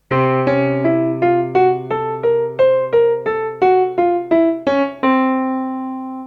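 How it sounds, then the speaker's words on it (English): Korg Volca synth stepping through an Oriental scale with a steady run of bright, decaying notes above a continuous low drone, finishing on a longer sustained tone, close and without voices. "Or even better, we can go with the Oriental scale, that sounds like this."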